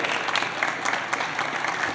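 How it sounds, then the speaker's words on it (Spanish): Applause fills a legislative assembly chamber, many hands clapping in a dense, even patter that holds steady throughout with no voices over it. "Un aplauso para Wilfrido Rivera"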